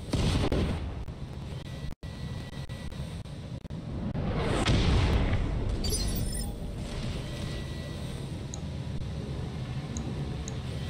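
Mech weapons firing in the BATTLETECH video game: a sustained, loud barrage of booming blasts and crackling impacts, with a sharp break near the two-second mark and then a continuous rumbling roar.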